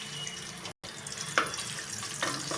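Onions sauté in hot oil with cinnamon and cloves for a thalicha, giving off a continuous close sizzle and hiss with a few brief louder crackles.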